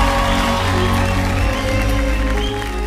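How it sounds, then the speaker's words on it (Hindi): A television studio audience applauds to welcome Indian men's hockey team goalkeeper PR Sreejesh, a loud, dense and continuous wash of clapping under background music that carries through the whole stretch. "पीआर श्रीजेश का तालियों के साथ स्वागत किया जाए"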